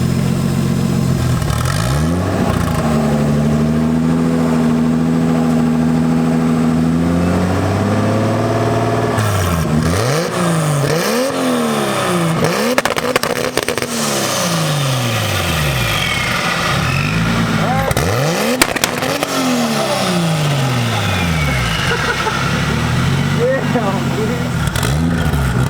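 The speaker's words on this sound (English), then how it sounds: "That's the first time I've heard him actually hit the launch control like that." A loud 2JZ-swapped Honda Civic sits on launch control, holding a high steady note before sweeping up and down in repeated sharp revs, with people talking nearby.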